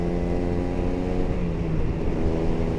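A Kawasaki Ninja two-stroke engine with stock exhaust idles steadily and smoothly, a continuous close buzzing drone with no talk.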